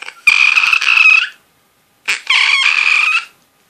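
A voice imitates a Star Wars monster's roar with two long, loud, screeching bursts separated by a short pause, high-pitched and rasping.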